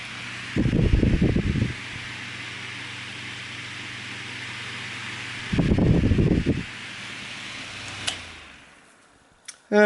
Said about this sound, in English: a Lasko 9-inch oscillating table fan